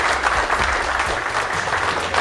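An audience at a port's magazine cover party claps steadily, a dense, even wash of applause from a roomful of people with no pauses.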